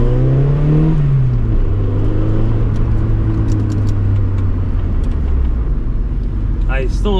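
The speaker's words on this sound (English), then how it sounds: "I'm trying to get this car from my buddy's place to my house right now." A Honda Civic drives along with a steady, loud engine drone and road rumble, pitch shifting as it changes speed, with a brief rattling clatter near the end.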